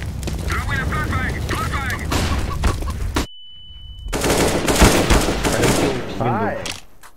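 Counter-Strike: Global Offensive gunfire: loud, dense bursts of rapid shots and booms with game voice lines over them, cut by a short silent gap with a steady tone, then more heavy firing.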